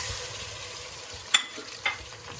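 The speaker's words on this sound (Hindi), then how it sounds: "इसमें हम अब ऐड कर देंगे चिकन।" Chicken pieces sizzle steadily in hot oil in a karahi for Balochi chicken karahi, a continuous soft frying hiss with a couple of brief clinks and stirs.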